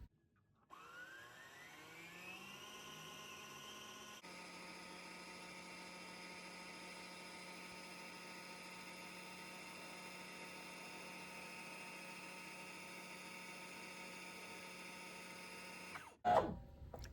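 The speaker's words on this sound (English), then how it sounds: "press on the foot controller again and let's continue to wind until the bobbin is full" Brother CE1125PRW sewing machine winding a bobbin, a steady high motor whine that ramps up at the start and runs evenly for about fifteen seconds before stopping with a clunk and rattle.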